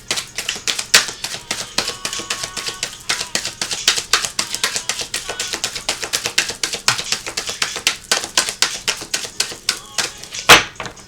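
Quick, crisp clicking and flicking of an oracle card deck being shuffled up close, a dense rattling stream of small taps broken by brief pauses.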